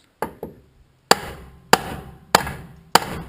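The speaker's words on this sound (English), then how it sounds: "Last time, I swear, I'm going to use my hammer." A hammer strikes metal during the teardown of a 2008 Chevy HHR SS turbo engine: two quick light taps, then four hard ringing blows spaced about half a second apart, close and sharp with no talking.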